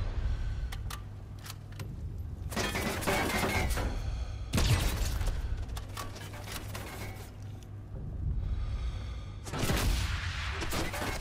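Gunfire in the video game Sniper Elite 5 sounds in a few loud, booming blasts spread across the stretch, with quieter clatter and background rumble in between.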